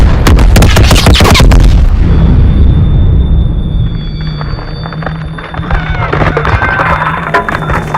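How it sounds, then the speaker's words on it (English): A bridge being blown up in Call of Duty WWII, a huge close blast with heavy low rumble in the first two seconds, then a long rolling decay with debris and scattered battle noise. "They're blowing the bridge!"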